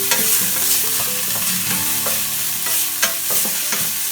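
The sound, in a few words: sauteing garlic, ginger and green chilies in a pan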